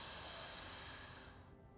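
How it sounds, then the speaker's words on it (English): A long, hissing inhalation taken during yoga practice, close and airy, easing off toward the end, heard alone without talk. "Breathe in"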